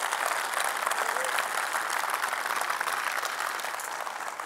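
An audience at the Devoxx Belgium tech conference applauds in a dense, continuous wash of clapping that holds steady for several seconds with no talk over it.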